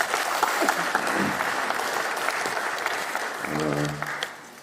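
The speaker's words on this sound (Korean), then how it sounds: "안 계시지만 박수 한번 보내주시기 바랍니다" Audience applause at a Korean party political gathering, a dense continuous clatter of many hands that carries on for several seconds, with a voice briefly speaking over it near the end before it fades.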